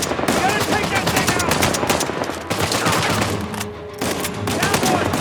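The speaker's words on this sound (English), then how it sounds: "What's the turret? Gotta take that thing" Sustained turret gunfire in the action game Uncharted: Legacy of Thieves Collection, a loud continuous rattle of rapid shots with heavy impacts, running almost unbroken throughout with only brief dips.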